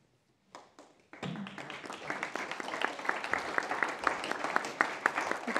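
Audience applause closing a lecture: a couple of brief claps, then a full burst of many hands clapping in a dense, uneven patter that holds steady to the end.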